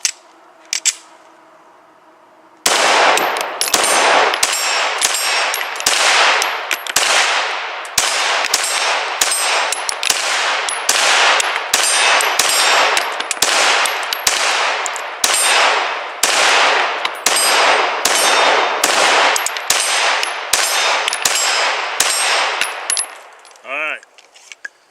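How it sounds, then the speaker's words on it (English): An FN 509 Tactical handgun fires a long string of sharp, evenly spaced shots at steel targets on a range, each shot followed by a ringing metallic clang, loud and close, with no talking. "this may just be the most fun handgun I have ever shot"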